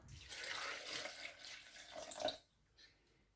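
Water poured into a cooking pot, a steady splashing pour that runs for about two seconds and then stops, leaving a quiet room with faint drips.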